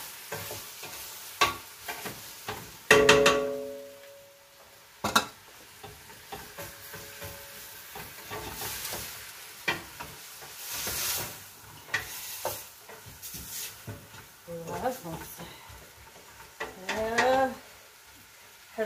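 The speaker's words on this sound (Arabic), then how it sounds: "نشحرو مزيان ونحركو" Food sautés in a pan in a home kitchen, a light sizzle broken up by scraping stirs and utensil knocks, while someone speaks Moroccan Arabic at intervals.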